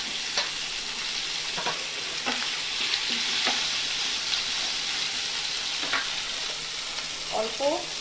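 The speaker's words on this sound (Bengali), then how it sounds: "এখন আলুটা আমি আবার ভেজে নামিয়ে নেব" Pre-boiled potatoes frying in a little oil for a fish curry make a continuous close sizzle, broken by a few sharp pops and crackles and some clinks near the end.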